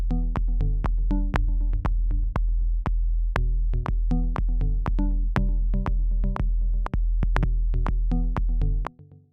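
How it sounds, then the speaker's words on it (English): An electronic kick drum pounds out a simple four-to-the-floor pattern for an EDM track, with steady, loud, evenly spaced thumps that run alone and continuously before cutting off at the end. "First I go with kick."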